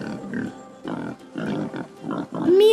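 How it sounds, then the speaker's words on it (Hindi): A wild boar grunts in a series of short, rough bursts with brief pauses between them, ending on a higher squealing note; no one speaks. "जंगली सूअर"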